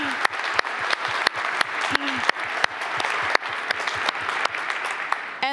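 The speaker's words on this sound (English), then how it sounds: "give them a warm applause" Conference crowd at PyCon DE & PyData Berlin 2023 applauding sponsors during the opening session, steady clapping with sharp, regular thumps recurring throughout.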